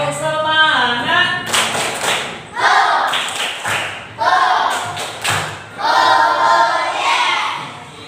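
A classroom of students performs a rhythmic spirit clap, loud group claps in patterned bursts alternating with chanted voices, several short phrases repeated in sequence.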